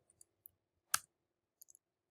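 Keyboard keys struck while entering a math answer: one sharp, close click stands out, followed a moment later by a few quick, faint taps, with near silence between them.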